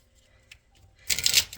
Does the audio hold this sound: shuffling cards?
yes